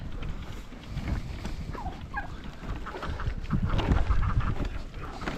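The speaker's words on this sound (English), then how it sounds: "Everybody's tom turkeys are going crazy right now, Cassie." Tom turkeys gobble in short warbling bursts over a busy, noisy outdoor farmyard background, with more fowl calling nearby.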